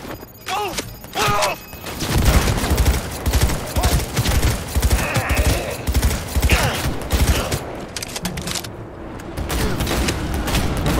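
Rapid bursts of gunfire fill a Cyberpunk 2077 firefight, dense repeated shots and impacts running nearly the whole time, loud and close, with players talking over the action.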